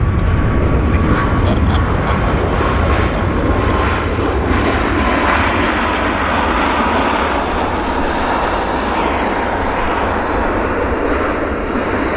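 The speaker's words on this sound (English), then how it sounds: "Q400 rolling there" A Q400 turboprop rolls at Vancouver airport, its steady broad engine roar heard from a distance and holding constant throughout, with radio chatter faintly in the background.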